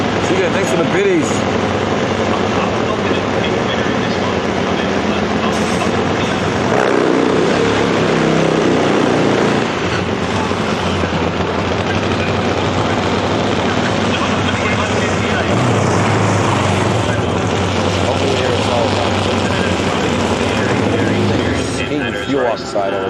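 A Harley drag racing motorcycle at Sydney Dragway's Nitro Champs roars loud and close in a sustained, thundering engine blast that holds steady for many seconds before dropping off near the end.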